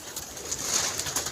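Pigeons coo softly in a brief, faint burst against light background noise, with no one speaking.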